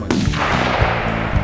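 A single loud, sharp crack of an F-class target rifle at a shooting range, followed by a brief rumbling decay with faint echoing thumps.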